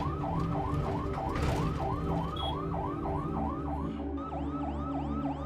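An ambulance siren wails in a steady, repeating rising-and-falling sweep, loud and close throughout, with a second overlapping siren pattern joining near the end over a constant low rumble.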